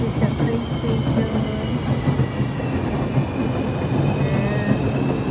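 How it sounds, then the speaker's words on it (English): A train rumbles steadily at the Selak Salatan train station, a continuous loud rolling roar with faint rail clatter, heard from a high floor nearby. "That is the train station."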